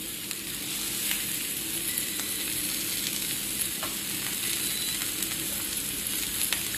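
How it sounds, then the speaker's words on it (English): Leek, fennel and okra fry in a hot pan with a steady, dense sizzle that holds close and even throughout, with no voices over it. "I'm going to throw in at the same time my leek and my leek, my fennel, and my okra, and cook those ones down"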